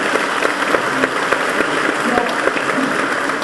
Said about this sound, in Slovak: No, tak ešte potlesk aj pre Budáčov.